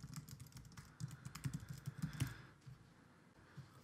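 Fingers tap a computer keyboard while entering business details into an online form, a quick run of close, light clicks that slows and fades into quiet near the end.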